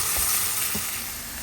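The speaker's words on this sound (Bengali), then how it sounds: "এই জন্য আমি এখন চিংড়ি মাছটা ভেজে দিব।" Prawns fry in a pan, a continuous hiss and sizzle with a couple of soft clinks and stirring knocks, close and fairly loud, with no talking.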